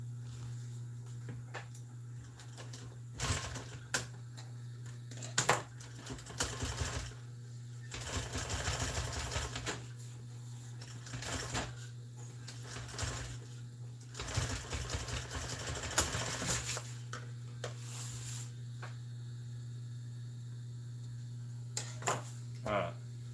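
A sewing machine runs a hemmed edge around cut pieces of auto seat upholstery, its motor humming steadily beneath repeated bursts of rapid stitching that start and stop throughout.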